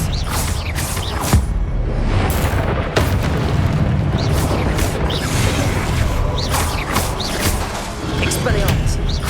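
Spell blasts from the game Hogwarts Legacy boom and burst repeatedly in quick succession, with loud impacts and pops layered over constant combat noise and voices casting incantations.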